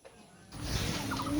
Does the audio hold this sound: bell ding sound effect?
no